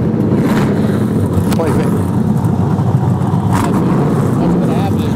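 Race cars circle the Monster Mile oval track, giving a steady, loud engine roar that persists throughout while people talk over it.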